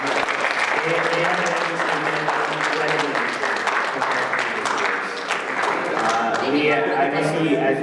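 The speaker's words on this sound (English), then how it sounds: "Please give a big round of applause for everything they've done." Sustained audience applause fills a large hall at an anime convention's closing ceremony, steady and dense throughout, with a few raised voices and music or tones mixed in near the end.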